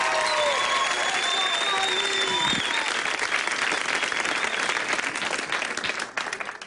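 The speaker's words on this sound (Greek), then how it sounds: "Θέλω να δώσετε ένα θερμό χειροκρότημα για τον Γιώργο Χατζηπαύλου και τις περιπέτειές του." A stand-up comedy audience gives a warm, sustained round of applause for comedian Giorgos Chatzipavlou. The dense clapping and crowd noise hold steady, then thin out and fade near the end.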